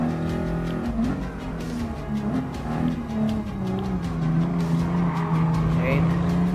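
Race cars in Gran Turismo Sport, including a Toyota Supra, a BMW M4 and a German sports car, their engines droning loud and steady with shifting pitch and a car passing, while a voice talks over them.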